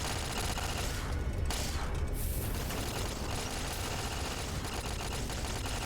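Turrets in the Fallout: New Vegas video game fire in a dense, continuous burst of rapid gunfire with mechanical clatter, loud and unbroken throughout, with no talk.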